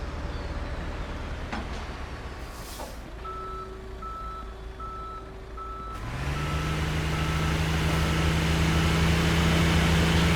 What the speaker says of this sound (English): There we go, here's the tow truck.